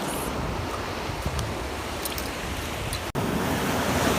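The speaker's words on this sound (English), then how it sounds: "Waves are coming in." Ocean waves roll in on a beach at high tide around sunset, a steady broad wash of surf with wind noise buffeting the microphone, with no voices.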